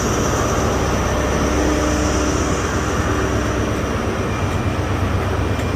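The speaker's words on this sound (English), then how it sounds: "Here it is, Paul, the iconic InterCity 125." InterCity 125 diesel train at Stirling, a steady loud broadband rumble and roar of engine and rolling stock with no breaks, close by and continuous throughout.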